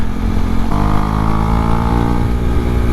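A Husqvarna Svartpilen 401 motorcycle accelerates hard, its engine note stepping up as it shifts into fourth gear and then pulling steadily, loud and close throughout.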